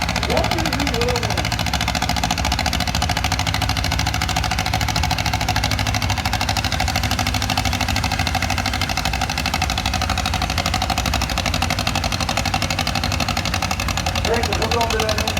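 Antique steam engine running at a pulling contest, a continuous loud mechanical rumble and chuff heard close, steady throughout the outdoor event with crowd noise beneath.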